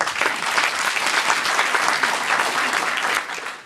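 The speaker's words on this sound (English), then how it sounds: "Let's give them a round of applause." Dense, sustained applause from an audience at a St. Louis mayoral candidate forum held in a library, steady and full for several seconds before tapering off at the end.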